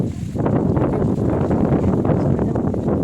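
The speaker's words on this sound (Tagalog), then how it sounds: "Mahangin dito." Steady, loud wind buffets the microphone in a continuous low roar on Tai Mo Shan, the highest mountain in Hong Kong, with no voices and nothing else standing out.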